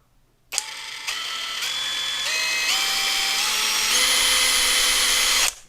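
Copy of a Makita DTD171 cordless impact driver running at its second speed, a loud steady high motor whine that steps up in pitch a few times over several seconds, alone without talk.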